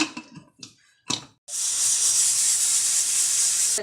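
A pressure cooker on the stove, cooking a brinjal and potato curry, lets out a steady, loud, high-pitched steam hiss that starts abruptly and holds to the end, after a few brief kitchen noises.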